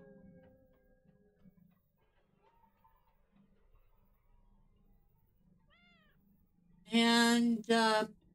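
A cat meows in the Lord of the Rings Online game during the Harvestmath festival, two loud, close meows near the end after a quiet stretch with faint ticking and a brief distant cry.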